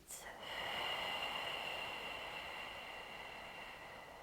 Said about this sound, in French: je vais faire un petit filet d'air avec ma bouche et je vais expirer en comptant dans ma tête jusqu'à 8